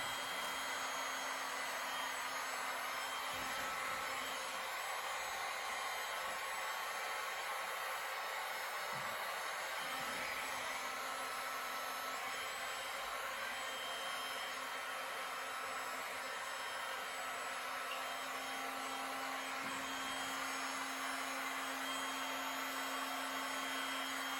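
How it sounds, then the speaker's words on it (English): A hot-air blower heats the surface of a resin pour for a butterfly design, a steady loud rushing whoosh with a faint motor hum running continuously near the mic, without speech. "I'm not leaving my blower down on it very long because it's very hot."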